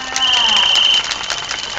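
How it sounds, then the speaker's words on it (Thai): Audience applause at a Thai mor lam singing performance, a dense crackle of clapping with crowd noise, loud and continuous under a sustained electronic tone, briefly tapering near the end. "ขอเสียงปรบมือนะคะ"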